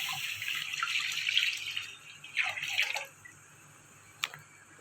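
Full-fat milk is poured into a lightly wet pan for halvasan, a close liquid splashing stream that tapers off, then a brief drip, quiet and without speech.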